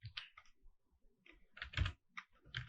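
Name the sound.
typing code on a computer keyboard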